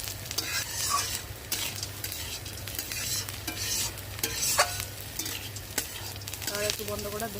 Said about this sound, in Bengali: এবার দিয়ে দিচ্ছি কাজু কিশমিশ বাদাম, আর হ্যাঁ, কাজু কিশমিশ বাদাম দিয়ে দিচ্ছি। দিয়ে একটু নেড়ে নেবো।